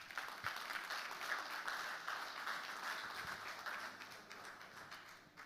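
A faint, even wash of audience applause after a presentation at a motors company event carries steadily throughout and thins slightly toward the end.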